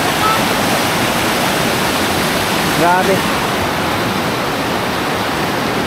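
A strong river current rushes steadily through a scenic outdoor spot in Misamis Occidental, a broad, unbroken wash of water noise, with a brief voice exclaiming over it midway.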